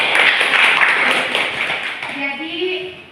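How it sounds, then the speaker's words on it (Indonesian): Brief clapping from students in a university microteaching classroom, short and fairly close, fading as the space settles with some voices. "Oke, baik, tepuk tangan."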